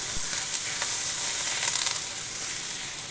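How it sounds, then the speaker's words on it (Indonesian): Half a head of garlic fries in a small amount of oil in a home kitchen, giving a steady close crackling sizzle with light pops throughout and no talk. "Ini bawang putih cuma setengah akan aku goreng"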